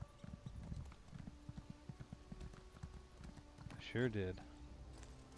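Horse hooves clip-clopping at a steady trot while riding in The Elder Scrolls Online, soft and fairly faint, with a short spoken line near the end.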